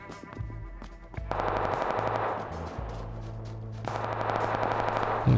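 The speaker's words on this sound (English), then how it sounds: "shooting somewhere on the hill. Wow, a lot of shooting" Gunfire in the battle royale video game PUBG Lite: bursts of rapid automatic fire and single shots, close and loud, with short pauses between volleys.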